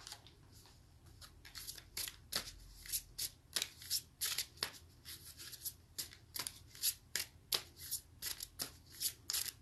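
Oracle cards being shuffled by hand, a steady run of crisp riffling flicks and slaps repeating about once a second, close and fairly quiet with no talking.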